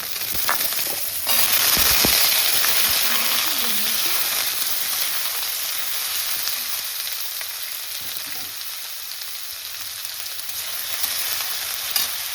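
Green chilies and ginger sizzle steadily in hot oil in a pan with fenugreek seeds, a loud continuous crackle that flares sharply near the start and then settles into an even hiss.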